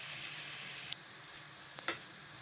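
Onion with garlic and ginger paste browns in a pan for a potato and brinjal dish, giving a steady, close sizzling hiss with a couple of sharp pops near the end.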